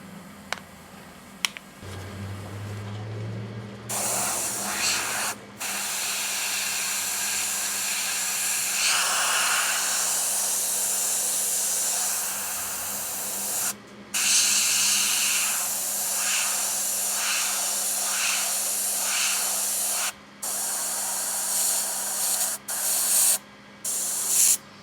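A Gaahleri GHAD-39 airbrush sprays Createx Candy Blue paint onto test pieces, giving a loud, close, steady hiss that runs in long bursts broken by a few short pauses and trigger clicks.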